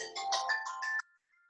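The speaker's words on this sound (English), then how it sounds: "Sorry, that's my phone." A mobile phone ringtone plays nearby during an anatomy lecture, a bright melodic run of repeating tones for about a second before cutting off into quiet.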